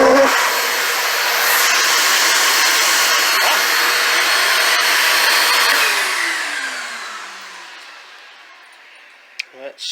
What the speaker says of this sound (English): So that is the Hart 16 gallon wet dry vac.